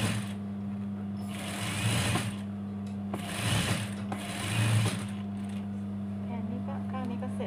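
A sewing machine stitches a dress lining in three short bursts of close, fast mechanical whirring over a steady low electrical hum, with someone talking over it.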